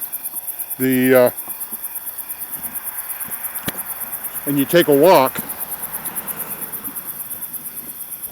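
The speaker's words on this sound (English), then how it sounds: "the field is filled with crickets" Crickets in a New Hampshire hay field chirp in a fast, even, continuous pulse that runs through the whole clip, with someone talking briefly over it twice.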